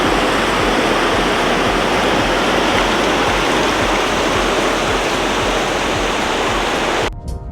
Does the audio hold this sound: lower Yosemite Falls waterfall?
yes